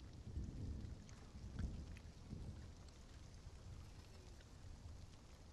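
Rain falling in the survival game Stranded: Alien Dawn, a steady soft hiss with low rumbling swells, faint and continuous, and no one speaking.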